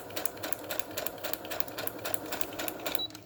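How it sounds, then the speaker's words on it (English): Sewing machine running a straight line of stitches through paper junk mail, a steady, continuous rapid clatter at moderate volume throughout with no voices. "So now I'm just stitching a straight line all the way down."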